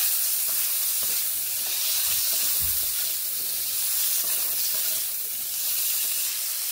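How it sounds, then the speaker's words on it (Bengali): Drumsticks (moringa pods) fry in oil over a medium flame, giving a steady, close, dense sizzle and hiss that holds evenly throughout, with a brief low knock partway through and no voices. "সজনে ডাঁটাগুলোকে মিডিয়াম ফ্লেমে আমি 30 থেকে 40 সেকেন্ড এইভাবে ভেজে নিচ্ছি।"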